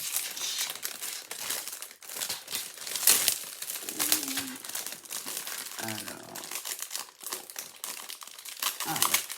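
Crinkling and crackling as protective paper is peeled off a paint-by-numbers canvas, continuous for several seconds, close up and fairly quiet, with a few sharper tearing crackles.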